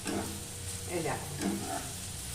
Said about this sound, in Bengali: এই যে আদা, রসুন, কাঁচা লঙ্কা বাটা দিয়ে দিলাম।